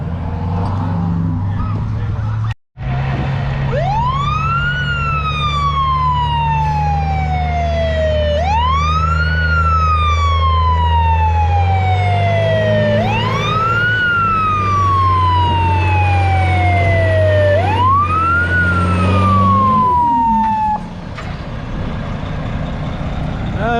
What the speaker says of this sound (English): fire truck one more time.